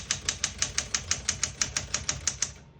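Keys striking steadily on a 1966 Smith-Corona Super Sterling portable typewriter, about fifteen crisp, evenly spaced clacks in quick succession, close and clear with no talking.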